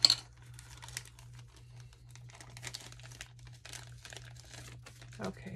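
Re-ment blind box packaging being torn open, with crinkly plastic and paper rustling in short bursts throughout, fairly close and moderately loud, and a brief voice sound near the end.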